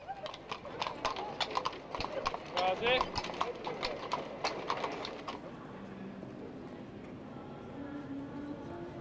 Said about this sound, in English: where the typical horse-drawn carriages start their tour of the city